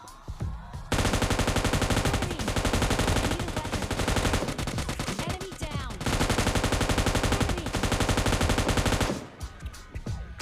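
Video game gunfire: dense, rapid automatic bursts roar loud and close for about eight seconds, with a brief break midway and quieter scattered shots at the start and end.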